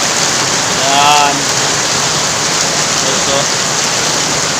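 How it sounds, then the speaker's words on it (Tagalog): Heavy rain pours down steadily and loud, a dense close hiss of drops on surfaces, with a faint voice briefly rising over the downpour. "Sobrang lakas ng ulan guys"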